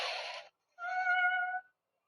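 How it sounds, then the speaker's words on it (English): A cat-like meow at the front door of a house at night, heard as two drawn-out, tonal calls separated by a short pause, fairly close and alone with no talking. "the family wakes up after hearing what sounds like a cat meowing at their front door"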